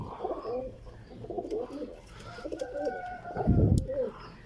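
Soft cooing of golden pigeons and their chicks, low murmuring calls repeating, close and fairly quiet, with a louder rustle or thump near the end.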